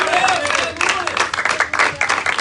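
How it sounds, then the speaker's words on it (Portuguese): A church congregation claps during a worship service, the clapping uneven and bursty, mixed with a raised voice and crowd noise nearby. "Dá uma salva de palmas ao Senhor."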